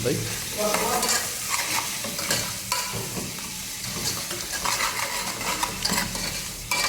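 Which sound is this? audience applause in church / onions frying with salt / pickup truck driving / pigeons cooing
onions frying with salt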